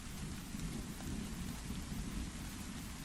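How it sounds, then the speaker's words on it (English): Steady rain falls with low thunder rumbling underneath, a dense continuous hiss at moderate distance with no voices. "It's raining."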